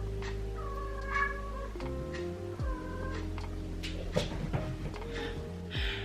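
A female cat named Freya in heat yowls and meows repeatedly indoors, drawn-out wavering cries over a steady low electrical hum from salon equipment.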